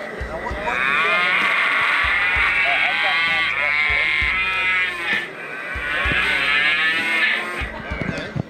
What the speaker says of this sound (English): there's also a spook the cattle feature where you can push the function and get them all riled up